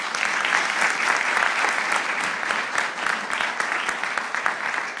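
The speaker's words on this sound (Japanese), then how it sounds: "皆様拍手でお見送りくださいませ。" An audience at a Japanese civic panel discussion applauds as the panelists and coordinator leave the stage, dense, even clapping from many people that stays loud and sustained throughout.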